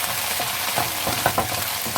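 Cabbage and golden-browned garlic sautéing in a hot pan for pork bihon, a steady close sizzle broken by a few short scraping stirs.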